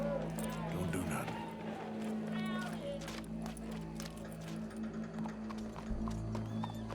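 Horse hooves clip-clopping in the video game Red Dead Redemption 2, a brisk string of close hoofbeats over a steady low hum, with people talking over them.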